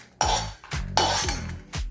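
Dried red chillies roasted in oil are transferred into a metal vessel, giving four sharp metallic clinks with a short ringing tail, spaced unevenly and close by, with no voices.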